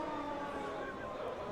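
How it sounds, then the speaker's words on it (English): A siren wails steadily at a football game, set off by Okanagan Sun alumni, blending with crowd noise and a commentator's voice over it. "You can hear the siren going."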